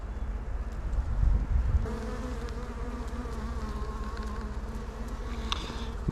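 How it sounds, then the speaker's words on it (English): Honeybees buzz around an open beehive, a close, steady droning hum with a few louder passes near the hive, continuous throughout and with no talk. "these bees are well behaved"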